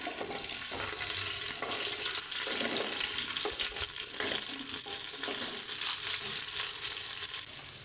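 Cut pointed gourd and potatoes frying in hot oil with onions and green chillies give a steady, dense sizzle with occasional stirring scrapes, close and continuous.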